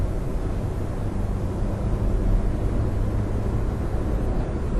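Kia Picanto engine droning steadily in third gear while climbing an uphill motorway slip road, a continuous low rumble with road and wind noise, heard from inside the cabin.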